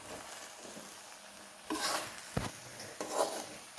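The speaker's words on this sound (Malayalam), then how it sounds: "അവിയൽ നമുക്കൊന്ന് ഇളക്കിയിട്ട് കൊടുക്കാം." A spoon stirring aviyal, a Kerala vegetable curry, in a pot, giving soft scraping and rubbing strokes with a few sharper clinks against the pot.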